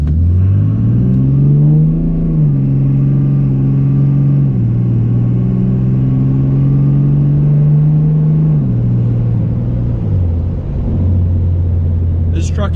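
A tuned 2015 RAM Cummins diesel pickup drives and accelerates with a loud, steady drone that rises through the gears. The pitch climbs, then drops at each shift, and the sound stays close and continuous throughout.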